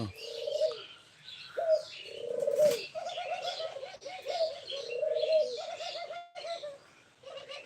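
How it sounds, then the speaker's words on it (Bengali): Several Australian golden doves coo in repeated soft, low phrases close by in Osmani Udyan park, Dhaka, with bright chirping birds overlapping in the background throughout. "অস্ট্রেলিয়ান সোনা ঘুঘু"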